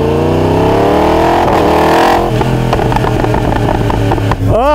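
A 2021 Yamaha R1M fitted with a full Akrapovic exhaust revs hard and close, a rising high-pitched wail climbing then dropping into a choppy, crackling burble of pops and bangs.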